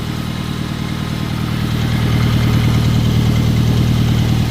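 A 1950 Farmall Cub tractor engine idles steadily up close, its low, even chugging growing slightly louder and holding a constant beat throughout, with no talking over it.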